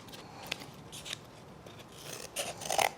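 Scissors make quiet snipping and crunching cuts, a few scattered snips growing slightly busier toward the end, close by and faint.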